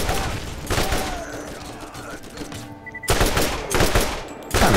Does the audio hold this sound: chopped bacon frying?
no